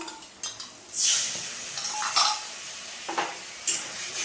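Yogurt goes into a hot pan of curry and is stirred, giving bursts of sizzling and scraping with a few light utensil clinks against the pan, fairly close, with no talk.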